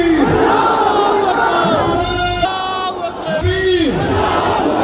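A large election-rally crowd in Okhla chants slogans in loud, rhythmic unison, repeated calls rising and falling in waves, close and dense.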